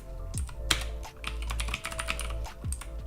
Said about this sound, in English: I'll just type it out here.